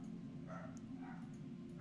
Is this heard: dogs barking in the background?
yes